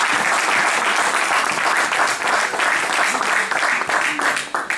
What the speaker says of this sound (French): Acclamons très fort pour la gloire du Seigneur.